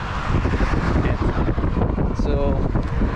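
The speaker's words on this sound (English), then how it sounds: "And it's fucking windy." Strong wind buffets the microphone at the start of a cycling race, a loud, constant low roar with gusty rumbling throughout and a voice faintly underneath.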